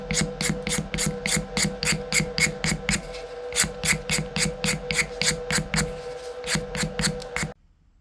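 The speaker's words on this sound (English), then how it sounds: "using a blade to scrape off the existing varnish" A blade scraping old varnish off wood in quick, evenly spaced strokes, a dry raspy scratching repeated several times a second, close up, before it stops abruptly.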